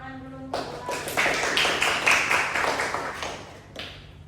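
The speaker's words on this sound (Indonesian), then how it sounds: "Beri tepuk tangan dulu untuk Mbak" Students in a classroom break into scattered hand clapping that starts abruptly, swells into a brief round of applause, then tapers off with a few late claps.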